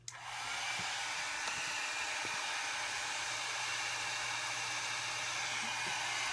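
A heat tool is switched on with a click and blows a steady, loud, close whooshing hiss with a low motor hum underneath, used to heat tin foil, continuing evenly without talk.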